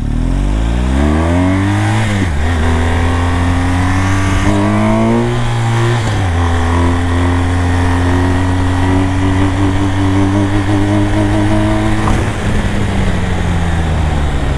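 A BMW 1200 motorcycle engine revving hard during a wheelie attempt, close and loud: a long, steady roar with repeated rises and drops in pitch as the throttle is worked, and no talking.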